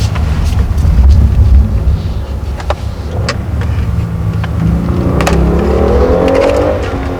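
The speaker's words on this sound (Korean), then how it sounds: "엔진 소리." A Kia THE K9 sedan with all-wheel drive, in sport mode, accelerates downhill with a loud, close engine drone that rises in pitch and builds toward the end.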